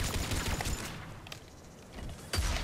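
Gunfire in the video game Mass Effect 3, a quiet flurry of shots and mechanical clatter, with a sharper burst at the end.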